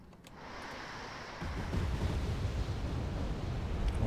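Cluster bombs and standard bombs exploding during an air strike in the Wargame Red Dragon strategy game: a low, roaring rumble that grows heavier after a second or so and keeps going as a sustained, distant-sounding barrage.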